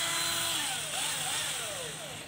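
A rechargeable cordless drill runs steadily without a pause, giving a loud, close, continuous motor whine with a slight rise and fall in pitch.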